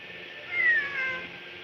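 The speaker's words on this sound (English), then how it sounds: "It really is a cat." A single cat in the Genshin Impact video game lets out a drawn-out, clear meow that rises and falls over about a second, with nothing else around it.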